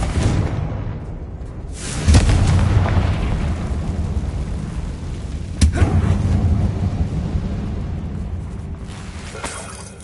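Two heavy booming blasts from a Confringo fire spell in Hogwarts Legacy, the first near two seconds and the second near five and a half, each ringing out over a dense rumbling game ambience.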